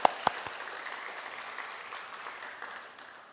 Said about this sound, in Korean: 우리 하나님께 모든 영광의 박수를 올려드리겠습니다